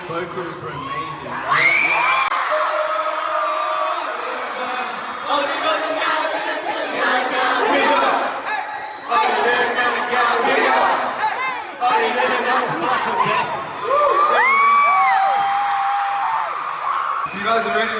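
A K-pop concert crowd at a show in Dallas screams and cheers in loud waves, with high shrieks and whoops rising and falling between brief lulls.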